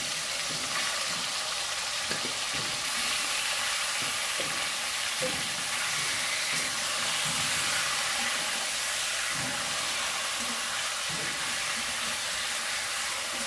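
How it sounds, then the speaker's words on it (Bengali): Chicken pieces for butter chicken fry in a hot pan, a steady loud broadband sizzle and hiss with faint scraping and utensil knocks beneath, continuous from start to finish. "এবারে চিকেনগুলোকে দিয়ে দিচ্ছি।"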